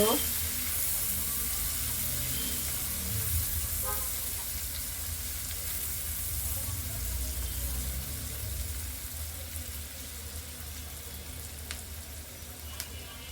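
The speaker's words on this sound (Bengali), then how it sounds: "একই পেনের ভিতরে আমি দিয়ে দিচ্ছি কিছুটা কুচি করা পেঁয়াজ পেঁয়াজটা কিছুক্ষণ নেড়ে নিব" Chopped onion sizzles in a pan with a broad, steady frying hiss, stirred now and then with faint scrapes; the sound is continuous and moderately close, fading slightly toward the end, and no one talks.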